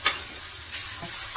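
Soaked korडई vegetable stirred in a hot pan over a high gas flame, a steady close sizzle with a few scraping stirs, alone without talk.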